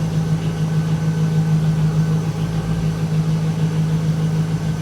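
2002 Camaro SS SLP idling after a cold start, a steady even hum held at constant pitch, near and alone without talk.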